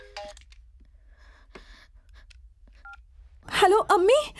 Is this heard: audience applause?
no